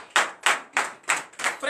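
Five slow, evenly spaced bursts of clapping from a congregation at a morning prayer service, each bright clap-burst separated by a short gap, moderately close.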